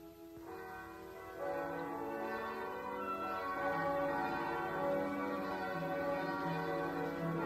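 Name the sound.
ringing church bells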